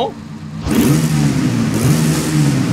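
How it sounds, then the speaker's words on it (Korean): A car exhaust blips once and then revs again, loud and close, with two sharp rises in engine pitch and a steady rumble between them. "배기만 한번 들어볼게요"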